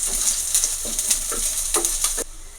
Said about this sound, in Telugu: అందులోనే మనం ఇందాక కట్ చేసుకున్న ఆనియన్స్ వేసేసి ఆనియన్స్ వేసుకుని ఒకసారి కలుపుకుని